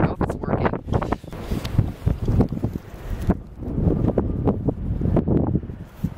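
Gusty wind buffets the microphone at a desert campsite among Joshua trees beside an Aliner camper trailer, a steady rumbling roar with repeated sharp surges and flutters, loud and close throughout.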